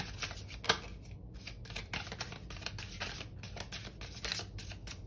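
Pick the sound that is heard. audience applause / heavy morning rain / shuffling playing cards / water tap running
shuffling playing cards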